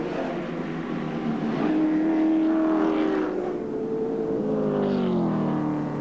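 Touring cars race at Amaroo Park during a 1987 Shell Australian Touring Car Championship round, with a continuous engine drone rising and falling in pitch as the cars pass.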